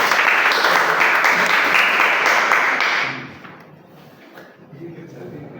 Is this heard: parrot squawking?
no